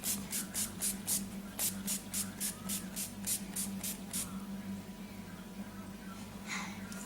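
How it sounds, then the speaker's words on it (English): NYX matte finish setting spray mists over baked powder makeup in about a dozen quick, close spritzes in a steady rhythm, followed by a faint hiss and one last spray. "I'm going to use the NYX matte finish setting spray, and I'm just going to set all this powder in place"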